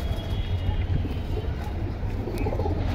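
Pigeons coo at a busy pigeon market in Keraniganj, a soft, continuous low murmur of cooing blended with the market's ambient hum, with faint human voices in the background.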